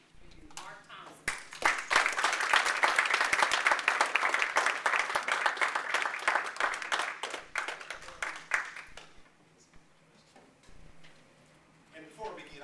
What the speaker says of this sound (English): I would like for you to give a warm welcome for Mark, because this is truly a treat for you.